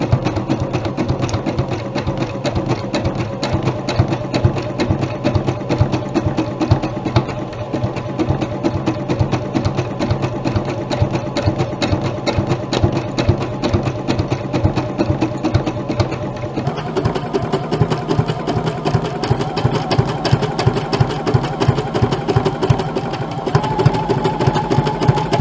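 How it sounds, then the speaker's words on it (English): A JUKI sewing machine fitted with a fringe foot stitches fringe at a rapid, even mechanical chatter, loud and close, running continuously for the whole stretch with a slight shift in tone partway through. "As you sew, just be careful. Keep these fringe out of the way."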